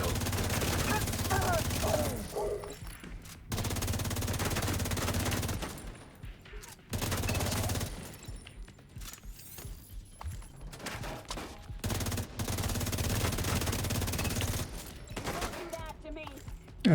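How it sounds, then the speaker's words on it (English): Repeated bursts of video game gunfire, loud rapid volleys broken by short quiet gaps, with someone talking intermittently over them. "I'm gonna shoot again in a sec."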